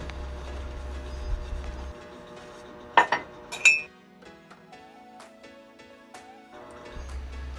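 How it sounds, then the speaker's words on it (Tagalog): Plates and cutlery clink sharply while dishes are washed, a few bright ringing knocks standing out over a quiet background with occasional soft rattles and a low running hum at the start and end. "naghugas na siya ng plato"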